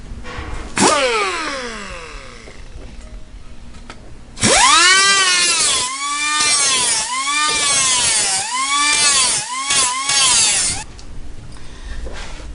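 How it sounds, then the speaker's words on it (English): Grinder cutting a car quarter panel patch, a near, high-pitched whine that spins up, bites in short rising and falling passes, and winds down, with no talk. "we're going to go ahead and start using the grinder"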